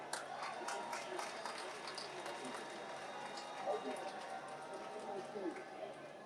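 A mushaira audience at the Quetta Literature Festival applauds a poet, producing a dense, steady wash of clapping that continues throughout with an announcer speaking over it.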